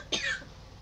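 A single short, sharp cough close to the microphone, trailing off into a quiet background.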